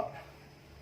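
A knife chops rakam (salak) fruit flesh into small pieces for a Thai rakam chili dip, giving one brief, fairly quiet cut at the start that fades into soft room noise.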